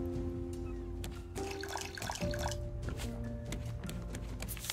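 Water pouring and dripping onto crops in the survival game Raft, a wet, splashy trickle with scattered drips, close and steady, over faint game music tones with no talk.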